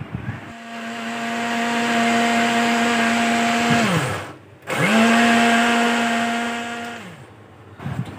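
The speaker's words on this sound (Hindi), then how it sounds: "इसको हम कर लेते हैं ग्राइंडर में डाल के ग्राइंड और उसका बना लेते हैं पेस्ट" An electric mixer grinder whirs loudly while grinding thin green chillies into a paste, running in two steady bursts with a brief pause between them and the motor winding down at the end of each.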